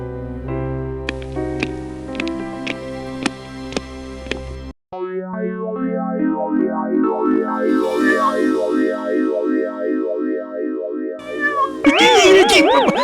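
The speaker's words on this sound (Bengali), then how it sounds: "ম্যাও ম্যাওয়ের মনে হয় খুব জোর খিদে পেয়েছে, তাই এমন করছে" A hungry cartoon cat lets out a loud, wavering meow near the end, following a stretch of tonal music and effects.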